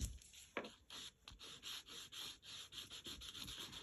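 A sand eraser rubs stray ink off a stenciled pumpkin design, making soft, steady scratchy strokes close by that repeat in a brisk rhythm with brief pauses and no talking.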